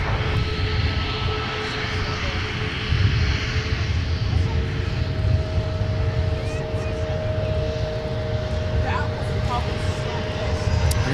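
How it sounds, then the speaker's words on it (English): A United Boeing 737 MAX 8 taxis toward runway 17 at MSP, giving off a steady engine rumble with a sustained whine, while radio chatter and voices run over it throughout. "Here's United taxiing the 17 with a max 8."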